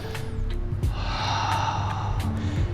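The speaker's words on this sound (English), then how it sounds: "Right side breathing out." A slow, audible breath out during a spinal rotation exercise, soft and close, rising and fading over a couple of seconds against a quiet room.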